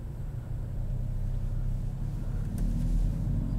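A manual-transmission 2021 Kia Forte pulls away as the clutch is slowly released, giving a steady low engine rumble that swells slightly toward the end, with no talking.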